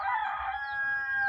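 A rooster crows a single close, loud cock-a-doodle-doo, the call trailing off over about a second with no one speaking.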